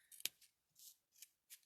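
Yarn scissors snip repeatedly through pom pom yarn, a series of crisp, close cutting sounds in an uneven rhythm with a sharp click among them.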